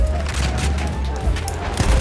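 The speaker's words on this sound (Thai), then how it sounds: "ปืนใหญ่มาปืนใหญ่มา" Dense rumbling artillery shelling booms and crackling gunfire in a Battlefield 1 battle, loud and continuous, with a shouting voice mixed in.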